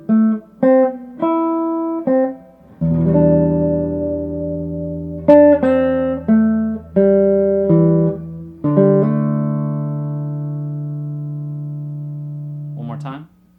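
An acoustic guitar plays a plucked melody, single notes over sustained bass notes, clear and close, ending on a long ringing note.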